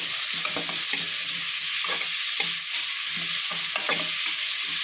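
Vegetables for paneer fried rice sauté in a pan over moderate heat, a steady close sizzle broken by repeated rhythmic scrapes and clatters of stirring, with no voices.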